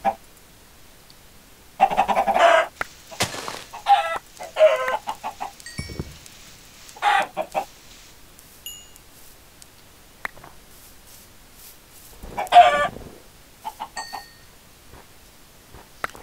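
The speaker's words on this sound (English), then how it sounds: "there are plenty of chickens around here, so don't worry about killing all these chickens" Chickens in a video game, several bursts of clucking and squawking separated by quiet gaps, fairly close and clear with no talking.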